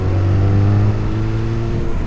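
A rebuilt 1998 Kawasaki ZX9R motorcycle engine pulls hard in fourth gear, a loud, steady, close drone whose pitch holds roughly level as it accelerates from low revs.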